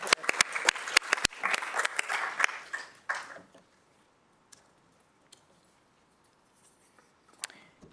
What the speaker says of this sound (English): So let's give him a clap and we'll get the certificate.